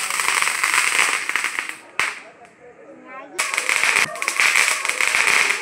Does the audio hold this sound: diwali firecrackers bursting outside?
yes